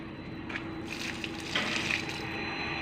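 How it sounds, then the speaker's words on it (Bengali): Water poured from a container onto a plant at home, a soft steady splashing stream that runs close by for a few seconds without talk. "জলটা দিয়ে দিই গাছে"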